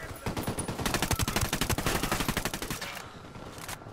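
Rapid automatic gunfire in a Ghost Recon Wildlands gameplay battle, dense repeated bursts running loud and steady for most of the stretch, then thinning out near the end.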